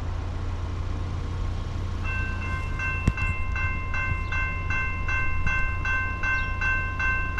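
Eastbound freight train led by an old-school EMD locomotive passing in South Plainfield, New Jersey, a steady rumble with a loud horn sounding in repeated pulsing blasts, plus a single sharp clank.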